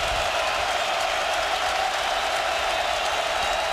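Stadium crowd roaring steadily at a Michigan State versus Notre Dame college football game, a dense continuous wash of cheering and applause that holds evenly loud throughout with no clear breaks.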